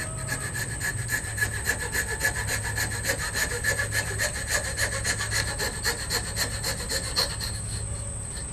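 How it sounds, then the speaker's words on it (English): A small hand saw cutting back and forth through wood for a sword sheath, in steady, even strokes, close and clear, with no talking. "I could fit my little saw in here"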